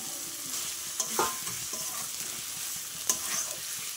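Eggs go into a frying pan of spice masala cooked down in oil, giving a steady close sizzle with a couple of sharp spatters and scraping stirs over it.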